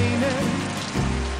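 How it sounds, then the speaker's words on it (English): Steady rain falling on a surface, a dense even patter with low rumbling underneath, continuous and fairly loud throughout with no speech. "Nicholas, what are you doing in the rain"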